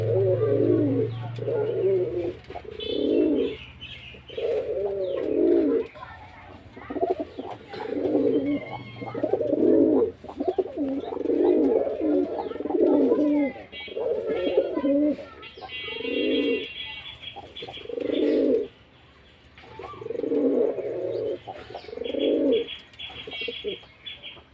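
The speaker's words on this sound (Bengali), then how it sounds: "দেওয়ার সঙ্গে সঙ্গে দেখেন কবুতরটা ডাকতেছে।" A newly paired pigeon in a home loft coos over and over in steady, rhythmic bursts close by, with a few faint chirps mixed in.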